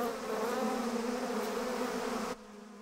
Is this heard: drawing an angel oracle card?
no